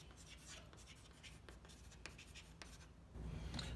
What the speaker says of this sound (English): I'm gonna be kind of writing and talking at the same time